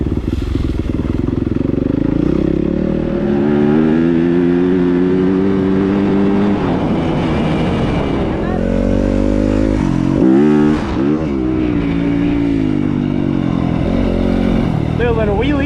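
Dirt bike engine on a trail, revving hard and climbing through the gears with rising and falling pitch, loud and close throughout, with wind buffeting and a brief dip near the middle.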